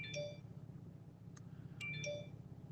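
A couple of short electronic beeps sound from a phone, a delivery-gig alert, spaced about two seconds apart over a low steady hum.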